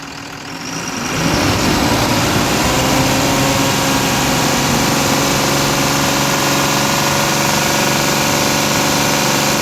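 A Tata BS4 diesel engine climbs from idle to full throttle and holds a loud, steady high-rev roar, close by with no voices.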